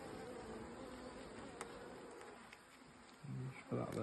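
Bees buzz steadily around an open hive number 4 during a pollen-rich inspection, a close continuous drone with a few louder passes and some handling sounds near the end.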